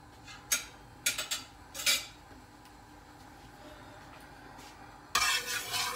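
Chicken pieces going into hot oil in a karahi for Lahori-style chicken karahi, with several sharp clattering clinks of utensils against the pan followed by a louder burst of sizzling near the end.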